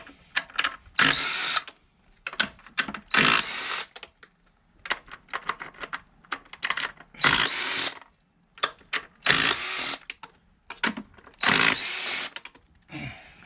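Impact gun on a Chevrolet Camaro 3.6L V6 intake manifold, spinning loose the bolts with a 13mm socket in repeated short bursts of rattling whir separated by brief pauses, close and fairly loud with no talk.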